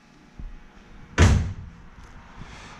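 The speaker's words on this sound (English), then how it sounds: "now all I have to do is shut the door" A car door shuts with one loud, close slam in a body shop, on a car whose body is being coated in high-build primer, with faint room noise before and after.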